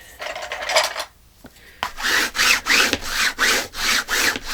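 Hands press and rub glued fabric onto a journal cover, a dry rhythmic scraping made of repeated back-and-forth strokes, close and fairly loud, with a short pause before the steady rubbing resumes.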